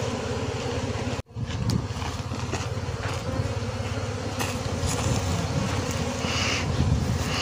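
Honey bees buzz in a steady, dense drone around a hive during a swarm capture, with wind rumbling across the microphone and a brief dropout near the start before the hum resumes unbroken.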